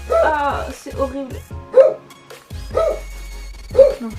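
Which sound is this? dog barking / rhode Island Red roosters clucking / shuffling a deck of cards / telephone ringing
dog barking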